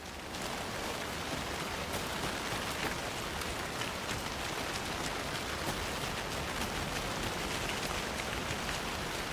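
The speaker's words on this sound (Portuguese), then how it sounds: "Nossa, tá chovendo muito" Heavy rain pours in Alan Wake 2, a steady, dense hiss of downpour with pattering drops that holds constant throughout with no talking.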